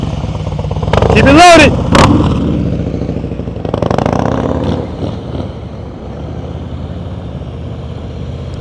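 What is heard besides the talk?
motorcycle riding slowly through a turn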